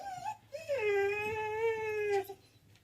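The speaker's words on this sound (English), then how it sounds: "we're going to ignore the whiny puppy" A puppy whines in a long, rising and falling tonal cry lasting about two seconds, with shorter whimpers before it, fairly close over a quiet room with no talking.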